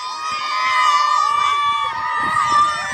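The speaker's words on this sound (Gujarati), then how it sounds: "તમે રાડું બધી સંભળાતી જશે, બધા આવી ગયા એટલે રાડું ચાલુ થઈ ગયું કેમેરા જોઈને" A crowd of young people screams and shouts together at an amusement park, a continuous high-pitched, fairly loud chorus of shrill voices lasting the whole moment.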